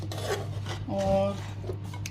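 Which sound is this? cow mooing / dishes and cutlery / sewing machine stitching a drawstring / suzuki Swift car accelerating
dishes and cutlery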